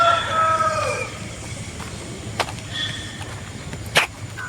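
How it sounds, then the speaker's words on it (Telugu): Fighting cocks at a large rooster-fighting farm during Sankranti, with faint distant crowing early on and a couple of sharp clucks or calls, set against a steady outdoor background hum. "అన్ని కోళ్ళు ఉన్నాయి చూడండి"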